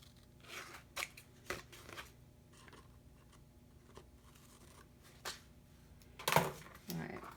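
Scissors snip paper for a scrapbook page spread in a series of separate crisp cuts, with a louder sharp snip toward the end, and a person talks quietly between the cuts.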